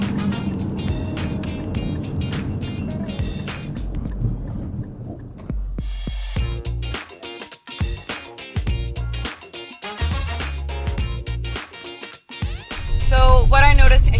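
A 2022 Infiniti QX55 drives on a dirt road: rumbling vehicle noise with bumps and rattles over uneven ground, steady and close, with occasional clunks and a louder rush near the end.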